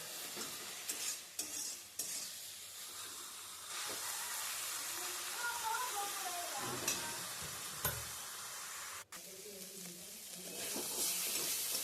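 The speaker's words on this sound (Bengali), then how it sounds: "এটা কিন্তু খুব ভালো করে একটু নেড়ে ছেড়ে ভাজা ভাজা করতে হবে" Mustard flower paste with salt and turmeric, for a prawn dish, fries in a pan under steady stirring: a continuous close sizzle and hiss broken by scraping strokes of the spoon, with no talking.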